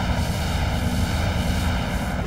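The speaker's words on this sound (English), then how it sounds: "But then again, we still have a helicopter again." A helicopter in the game Half-Life: Source gives off a steady, droning engine and rotor roar that stays loud and even throughout, with no voices over it.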